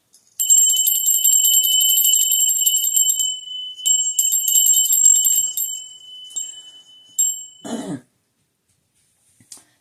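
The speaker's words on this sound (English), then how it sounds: "I'm going to ring this bell" A hand bell rung loudly and steadily, its bright, sustained metallic ring carrying for several seconds with a brief pause and softer tail strikes, followed by a short throat clearing.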